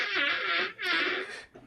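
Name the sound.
fart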